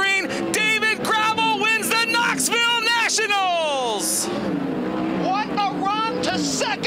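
Sprint cars roar around the dirt oval at the Knoxville Nationals, engines rising and falling in rapid pitch sweeps as cars pass close by, loud and continuous under an announcer's commentary.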